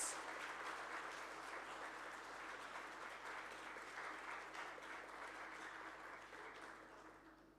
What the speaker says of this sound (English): can we give a big applause to these amazing researchers?